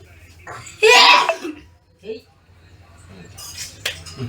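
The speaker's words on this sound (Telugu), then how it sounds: "ఎప్పుడు తుమ్ములే" A sharp, loud sneeze bursts out near the start amid a lively Holi festival celebration, followed by brief voices and a few quieter vocal sounds.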